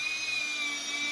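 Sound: power drill driving screws into wood router jig

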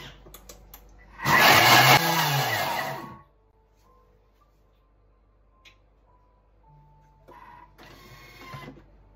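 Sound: food processor blending spinach

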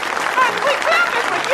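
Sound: thunderous applause in a church, from the film The Help

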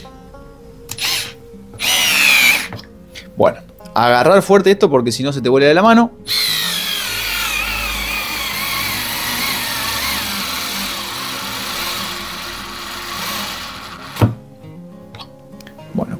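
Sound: Bosch Go cordless screwdriver driving a screw

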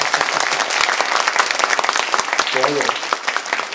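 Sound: studio audience clapping

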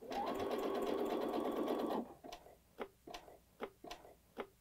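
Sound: sewing machine sewing on a button

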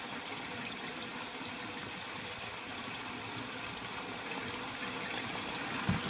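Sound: toilet tank filling with water after fill valve replacement

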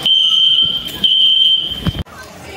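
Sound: fire alarm ringing

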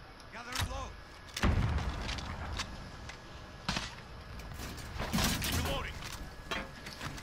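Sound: grenade explosions in a video game

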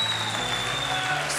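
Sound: congregation applause

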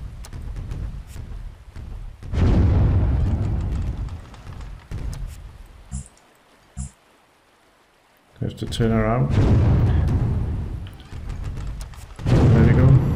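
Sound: ship cannons firing in the video game Windward

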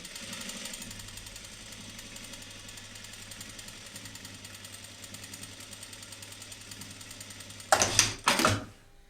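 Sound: sewing machine stitching a pajama cuff

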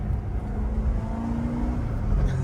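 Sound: sports car engine revving while shifting gears

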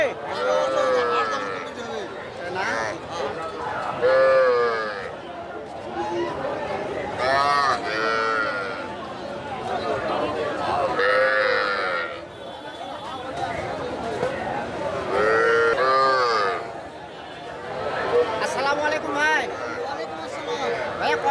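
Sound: calves mooing at a cattle market

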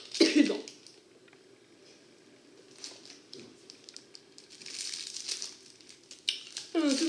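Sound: coughing

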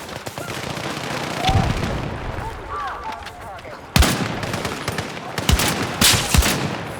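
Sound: gunfire in a video game

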